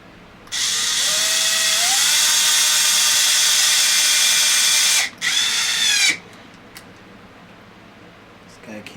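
A power drill backs screws out of an Arrma Typhon RC car, whining loudly and steadily for several seconds as the pitch rises, then stopping briefly before a second shorter burst. The tool is close by.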